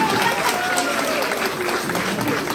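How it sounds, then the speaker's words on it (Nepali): Audience at a Nepali lok dohori folk song event applauding, a dense continuous wash of clapping from a crowd, loud and sustained through the whole stretch. "जोरदार ताली त बुहारीहरू"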